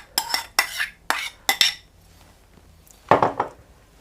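Sweet corn kernels are tipped into a large mixing bowl for corn chaat, giving several quick clattering bursts, a short pause, then a final louder rattle near the end.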